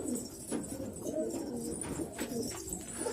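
Pigeons cooing nearby in soft, repeated low murmurs, with a steady ambient hum behind them and no talking.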